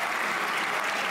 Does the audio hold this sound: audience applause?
yes